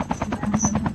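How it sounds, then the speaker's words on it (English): A helicopter in a Call of Duty battle royale match gives a loud, fast rhythmic rotor chop with an engine whine underneath, heard close and steady for under a second with no speech. "Helicopter over there, towards south 205."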